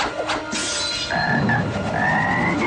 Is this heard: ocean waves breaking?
no